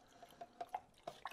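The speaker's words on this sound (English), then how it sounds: "You get your brush, and same thing, all you're doing is swishing it around." Brush swished in a container of water mixed with a couple capfuls of Murphy's oil soap while cleaning oil painting brushes, giving faint, intermittent drips and small splashy swirls close by, several soft pulses over a quiet background.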